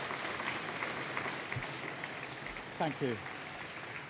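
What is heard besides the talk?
applause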